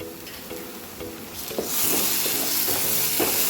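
Chana masala with kasuri methi fries in oil in a pan, soft stirring scrapes giving way to a steady, close sizzling hiss that swells and holds to the end.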